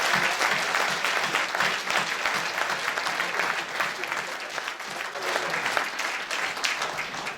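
A crowd at a French mayor's New Year civic ceremony claps loudly and steadily for a champion team, a dense, even roar of hands that holds for several seconds.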